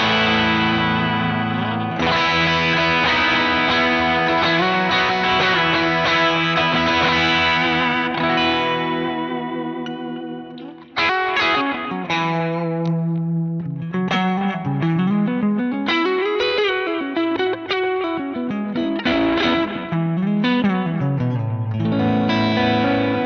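Electric guitar played through a vintage 1960s Skylark combo amp model on ToneX, with distorted chords ringing out, then a melodic riff with slides and bends, a warm low end and a chorus-like shimmer, alone without talk.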